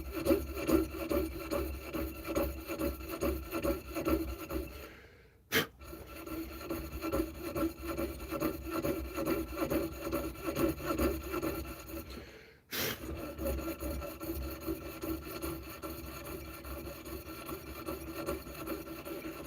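Hand saw blade rasping through brass along an existing kerf, a steady rhythmic back-and-forth scraping at close range, broken by two brief pauses before the strokes resume.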